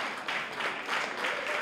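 Audience at a Cape Verdean Association Martin Luther King Jr. family event applauding, a soft even wash of clapping from a crowd, moderately distant, with faint voices underneath.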